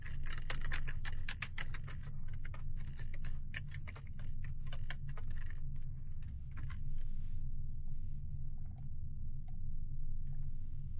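Rapid, close typing on a computer keyboard, with steady clicking keystrokes over a continuous low background hum, briefly pausing before resuming with sparser taps.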